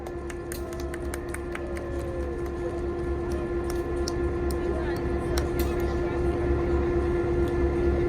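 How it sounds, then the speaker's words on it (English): A Tennessee Valley Railroad locomotive rolls past a train on a parallel track through a switch, a steady low rumble with a sustained droning tone and scattered metallic clicks and squeals, slowly building in loudness. "the locomotive will go past our train on track number 2 and then through a switch"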